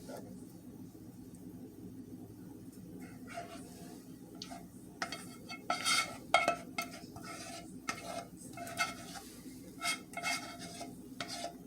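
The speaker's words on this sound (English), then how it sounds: "Then what I do, I stir it all together." Macaroni and cheese sauce is stirred with a utensil in a dish, giving soft scraping and irregular clinks that grow louder and more frequent partway through, close by.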